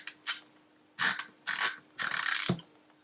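Short, close bursts of clicking come from a 90-tooth ratchet wrench with a direction change and a ball detent for releasing sockets. The quick, fine ratcheting comes in five separate strokes with brief silences between them.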